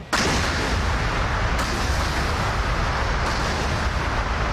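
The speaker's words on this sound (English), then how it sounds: "Rockets away." Rockets fired from an attack helicopter in the flight simulator DCS roar out in a loud sustained whoosh, with a sharp onset and further launches layered on top, no voices.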